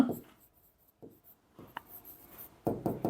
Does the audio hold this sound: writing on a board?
yes